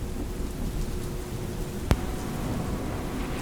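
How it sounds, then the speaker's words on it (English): Steady rain hissing on a surface with a single sharp, close thunderclap cracking about halfway through, then the downpour continuing evenly, moderately quiet throughout. "accompanied by rain and thunder"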